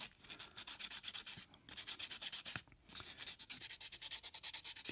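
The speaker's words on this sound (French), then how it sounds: "On répète l'opération ponçage." Carbon RC part hardened with cyanoacrylate glue being sanded by hand, rapid rhythmic scratchy strokes in quick bursts with two brief pauses, close and fairly quiet.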